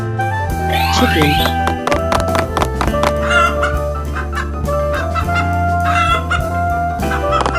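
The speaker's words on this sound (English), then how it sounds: "Chicken." Chicken clucks mixed into a busy, layered soundscape with music and other animal noises, fairly loud and continuous throughout.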